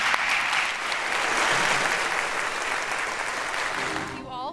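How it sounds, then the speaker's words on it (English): Audience applause rings out for the panelists at a deep learning conference session, a steady, dense wash of clapping that fills the room and tapers slightly at the end, with some voices mixed in. "A round of applause for our panelists,"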